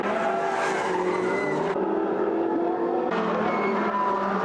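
Ferrari race cars scream past in the Trofeo Pirelli race at Brno, Czech Republic, high-revving engines shifting pitch with gear changes and brief tire squeal, loud and close.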